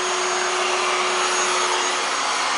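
A household vacuum cleaner runs close by with a loud, steady whooshing roar and a constant high whine, unchanging throughout with no voices.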